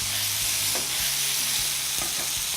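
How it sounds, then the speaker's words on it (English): Food frying in a pan for a brunch-style egg dish: a close, steady sizzle and crackle with a few soft scrapes and taps as it is stirred, and no voices. "These have been in the pan for about 5 minutes now, and they're starting to get some really good color."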